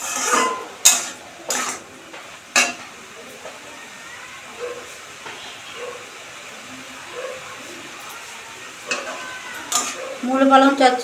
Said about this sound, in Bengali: মূলো পালং চচ্চড়ির মশলা কষানো হচ্ছে।